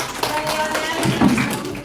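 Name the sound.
applause for group 2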